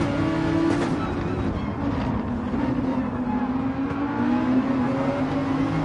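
A Porsche race car in an endurance racing video game holds a steady, loud engine drone throughout, its pitch rising gently as it accelerates, with no talk over it.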